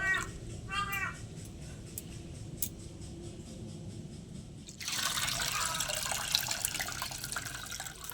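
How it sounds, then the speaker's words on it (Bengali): Rice for Jagannath's kanika bhog is rinsed over and over in water. Quiet splashing gives way to a louder, steady rush of sloshing water partway through, with a brief cat-like cry early on. "বারবার করে ধুয়ে নেবো, যত সময় না চালটা পরিষ্কার জল আসছে"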